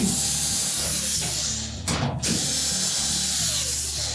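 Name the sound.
removing Whirlpool dryer top retaining screws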